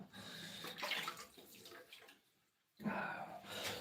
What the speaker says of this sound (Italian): mi bagno un attimo la testa così